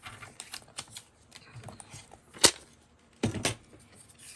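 Old book page being cut down to a small size: soft rustles and light taps of paper handling, then a couple of sharp, close snips or slicing strokes, fairly quiet overall.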